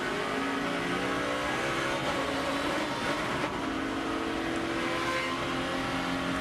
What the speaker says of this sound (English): He missed a shift, and he's real lucky he didn't lose the motor on the race car